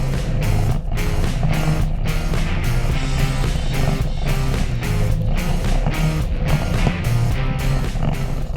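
Lifted 1987 Toyota Pickup with a 22R engine, two-wheel drive, climbing a slight incline with the left wheel spinning, a steady loud engine roar with rhythmic pulsing throughout and no pauses.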